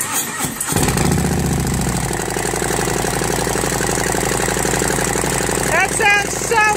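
A motorcycle engine cranks and fires, then settles into a loud, steady, close idle with a rhythmic pulsing thrum, a few higher squeaky chirps breaking in near the end.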